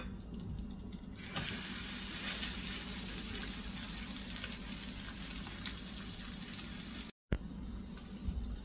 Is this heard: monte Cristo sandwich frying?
yes